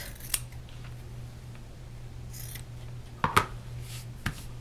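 Scissors snipping the corner of a fat quarter fabric bag: a few crisp, quiet blade clicks and a short cut near the end sound close against a faint steady hum, with no talking.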